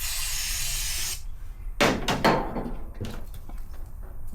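Tire sealant sprays in a sharp burst to seat the bead of a scooter tire, with a long hiss followed by a few short, loud puffs and bursts close by.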